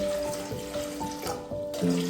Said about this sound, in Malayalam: അതിനകത്തേക്ക് വെള്ളം ഒഴിച്ചു കൊടുക്കുക.